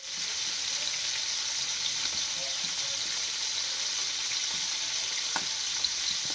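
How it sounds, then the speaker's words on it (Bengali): Prawns fry in oil during village-style cooking, giving a steady, loud, continuous sizzle with a few faint clinks and stirring sounds and no talking. "এবার বাকিগুলো আমি ভাজতে দিয়ে দিচ্ছি এই করে বাকিগুলো আমি ভেজে নিচ্ছি"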